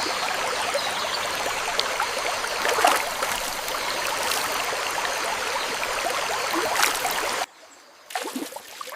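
A small stream on an island runs with a steady, close, hissing trickle, broken by a few brief splashes, then drops away almost to silence near the end.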